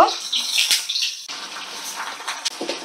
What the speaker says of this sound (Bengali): এইবার আমি টুকরো করে রাখা ঝিঙেগুলোকে দেব এবং এগুলোকে ভালো করে ভেজে নেব